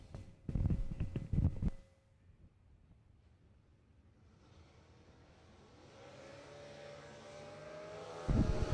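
A drag racing car revs its engine at high RPM during a bracket drag race event: loud throaty revving bursts, a quieter lull, then a rising engine whine building to a loud final blast.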